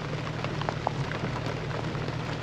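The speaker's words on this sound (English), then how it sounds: "It's wet. It's rainy." Rain falls outdoors during a Swedish-style crawfish boil, a faint, steady wash of noise over a low hum, with a few small drops and ticks.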